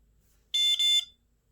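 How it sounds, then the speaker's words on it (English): A UV phone sanitizer gives two quick high-pitched electronic beeps close by in a short burst as its light turns off, then silence. "The light turned off, it beeped twice."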